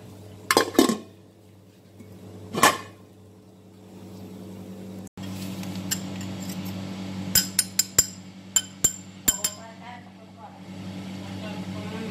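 A metal pot is covered with its lid while duck rice cooks: sharp metallic clanks near the start, then a run of quick clinks and taps over a low steady hum in a kitchen.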